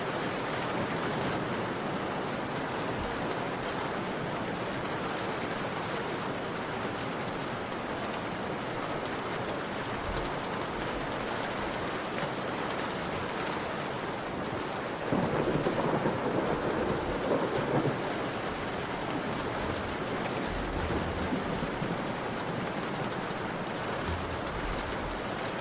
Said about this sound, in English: You guys can hear the rain?